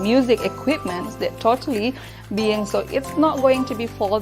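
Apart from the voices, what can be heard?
No everyday noise stands out behind the speech.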